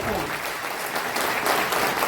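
Applause from the audience at a journalists' association state meeting in Raipur, a dense steady burst of many hands clapping together, fairly loud and continuous, with some crowd murmur underneath.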